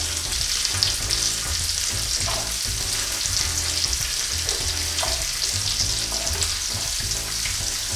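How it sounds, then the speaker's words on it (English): Chopped onion sizzling in hot oil for a mutton biryani, a steady dense frying hiss close up with occasional stirring clinks, no voices. "And now add one finely chopped medium sized onion."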